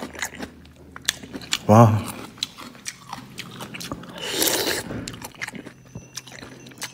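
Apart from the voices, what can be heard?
biting and chewing a mouthful of fish soup noodles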